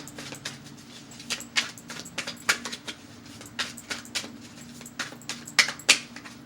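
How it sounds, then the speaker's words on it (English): A deck of tarot cards is shuffled by hand, giving a quick run of crisp papery clicks and riffles in uneven bursts, close and fairly loud, with no talking. "Let me do another shuffle."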